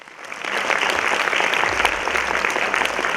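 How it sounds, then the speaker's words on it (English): After an education lecture, the audience breaks into applause that swells in over the first half second, then holds as a full, steady patter of many hands. "Let's give Professor Ananth another round of applause."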